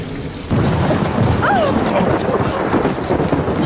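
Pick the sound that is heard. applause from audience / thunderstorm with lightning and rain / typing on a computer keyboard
thunderstorm with lightning and rain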